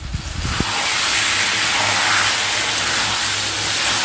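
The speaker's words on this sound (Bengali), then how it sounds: "এবার এদিকটায় মাছগুলো ভেজে নেব" Fish frying in hot oil during home cooking, producing a steady, dense hiss that holds close and even throughout, with a few brief knocks at the very start.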